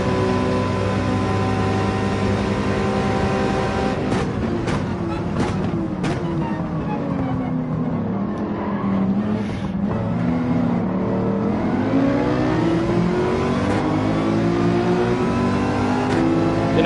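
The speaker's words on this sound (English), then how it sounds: "What engine is in the AMG? I think it's a 5, is it a 5-liter V8? Twin turbo 5-liter V8?" A twin-turbo 5-liter V8 of an AMG car in Gran Turismo 7 at Spa drones steadily with rising and falling revs throughout, racing engine tones shifting as the car accelerates and lifts.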